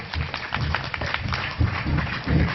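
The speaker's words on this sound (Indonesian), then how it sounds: "Tepuk tangan dulu untuk Ustaz Hasan." An audience at an Islamic elementary school event applauds for Ustaz Hasan, a busy, continuous patter of many hands clapping at moderate loudness with muffled low thumps underneath.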